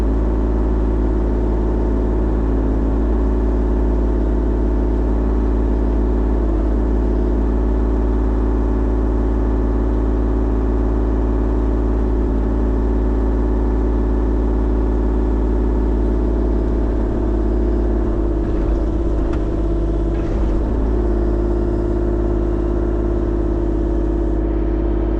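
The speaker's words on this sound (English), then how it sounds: "So I'm just gonna track the excavator all the way over there twice." An excavator tracks across a yard with a loud, steady engine drone and deep rumble throughout, plus some rattling clanks of the tracks near the end, heard close with no speech.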